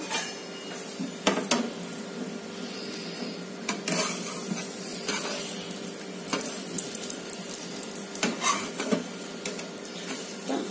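A bread omelette frying in a pan, with a steady sizzle under repeated spatula scrapes and metallic clinks as the pieces are lifted and flipped, several louder knocks spread through the stretch and no talking.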